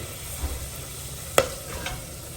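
Whole spices, cashews and fennel frying in a pan, a soft steady sizzle with a few stirring scrapes and one sharp clink of a utensil against the pan.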